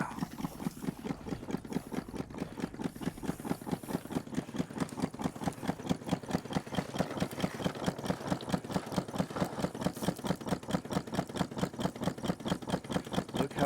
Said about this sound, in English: He's down here running the dry washer.